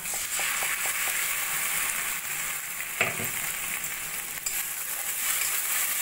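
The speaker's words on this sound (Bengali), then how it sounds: "মশলা দিয়ে এই মশলাটাও আমি ভালো করে কষিয়ে নেব" Tomato and spice paste frying in a pan after ginger and garlic, a continuous close sizzle with scattered stirring scrapes and a couple of sharper clatters.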